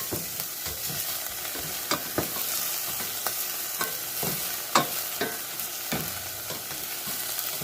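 Food sizzles steadily in a hot pan while a utensil stirs and scrapes it, with regular knocks and clatters against the pan over the constant frying hiss, close up, while Katsu curry is being cooked.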